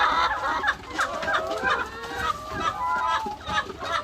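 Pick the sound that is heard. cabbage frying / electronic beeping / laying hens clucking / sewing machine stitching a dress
laying hens clucking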